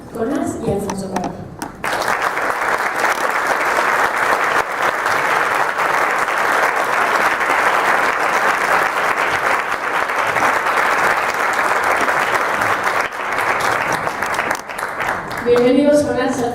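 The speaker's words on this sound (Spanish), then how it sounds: "háganos con un fortísimo aplauso como lo merecen" Strong, sustained applause fills a press conference for a film's director and co-writer, a dense roar of clapping lasting over ten seconds, framed by an announcer's voice before and after.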